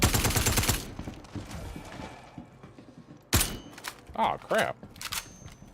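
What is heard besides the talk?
gunfire in the video game Star Citizen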